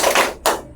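Two sharp hand claps in a classroom counting game, a broad first clap followed by a second about half a second later, close and fairly loud with no talking.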